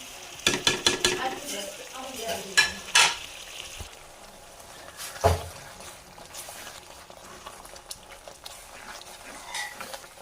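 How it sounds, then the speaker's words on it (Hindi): Spices being stirred and fried in a pan for aloo gosht: a burst of scraping, clinking utensil strokes early on, then a softer, steady frying hiss with occasional clinks, fairly close. "तो मसाले को अच्छे से भूनेंगे।"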